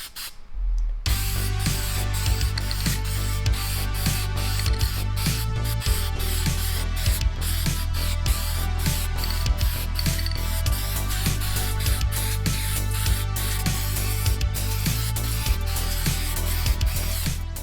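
Steady spray gun hiss laying down a coat of bronze paint, loud and continuous from start to finish with no talk.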